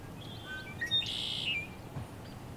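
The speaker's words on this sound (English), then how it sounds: "You will hear the lovely birds singing" Birds chirp and whistle in short bright calls in a forest with massive trees, moss and ferns, over a soft, steady outdoor hum, fairly close and clear.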